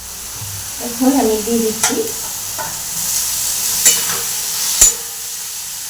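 Spice paste for Bengali fish kalia sautéing in a pan, a soft sizzle with stirring scrapes and a few sharp clinks of a spoon, while someone speaks briefly over it.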